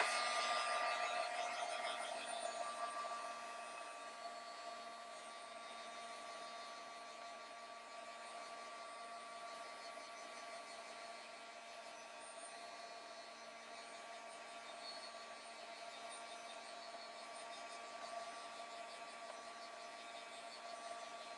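A hair dryer blows on ink on a mixed media card, giving a steady, close whirring rush that runs unbroken throughout with no talking.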